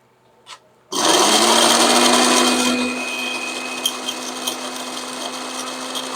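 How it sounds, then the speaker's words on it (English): A blender grinds keyboard mylar scraps for silver recovery. It starts abruptly with a loud whirring roar, then settles into a steadier hum. Small metal bits tick and rattle against the jar several times. "I hear the little bits of metal hitting the side."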